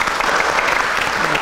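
An audience at a live comedy show bursts into dense, loud applause, many hands clapping together in a steady, close wash of sound for the whole moment.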